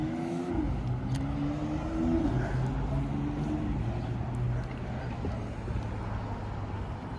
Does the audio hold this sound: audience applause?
no